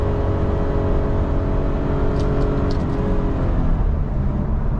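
A 2023 Nissan Frontier Pro-4X pickup towing a trailer, its engine droning loud and steady from inside the cab as it downshifts, with the pitch of the engine tone sliding noticeably toward the end.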